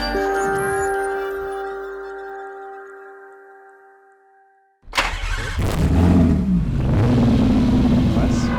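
A Ford BTCC touring car engine rumbles and fades out, then loudly fires up and revs hard at close range, with a voice speaking over the noise.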